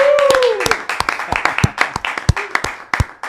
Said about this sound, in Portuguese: Forte aplauso, Edmilson!